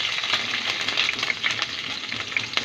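Mustard-type tempering seeds and green chillies frying in a few spoons of oil in a pan, a steady close crackling sizzle with small pops throughout, no voices.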